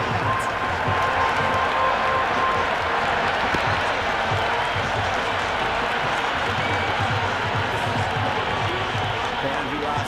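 A cricket video game crowd roars and applauds steadily for a boundary, a dense, constant wash of cheering that fills the whole stretch without letting up.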